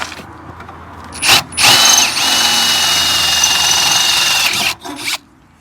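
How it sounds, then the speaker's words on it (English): A power drill with a fresh bit whirs steadily for a few seconds, boring through a metal bracket on a Polaris Ranger XP 1000, with brief bursts at the start and a sharp cutoff at the end. "now that we have a drill bit that isn't as dull as a butter knife"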